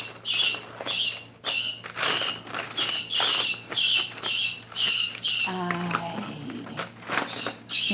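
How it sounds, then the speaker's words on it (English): Pet birds kept indoors squawk in loud, repeated harsh bursts close by, with a brief lower chirping passage near the end. "I think I need to go give my birds some millet to let them settle in."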